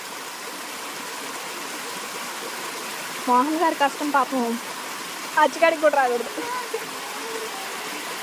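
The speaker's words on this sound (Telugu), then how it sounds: "ఇక్కడ వాటర్ ఇలా పడుతున్నాయి" Water flows and falls steadily at Netravali wildlife sanctuary in south Goa, a constant rushing wash heard nearby. Someone speaks briefly over it midway.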